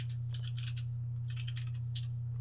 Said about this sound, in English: keyboard's so loud